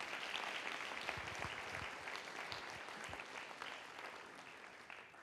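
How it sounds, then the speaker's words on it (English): An event audience gives a round of applause, a moderately loud, dense clapping that stays steady for several seconds and slowly eases off toward the end. "Let's give these guys another round of applause."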